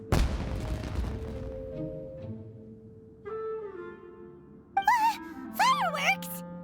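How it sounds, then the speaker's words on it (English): A firework bursts in Genshin Impact with a sharp, loud boom that crackles briefly and decays, followed by game tones and chirpy character sounds. "It sounded like fireworks."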